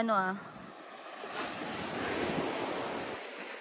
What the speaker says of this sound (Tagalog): We cannot leave this place without enjoying the waves and the water of Olanivan.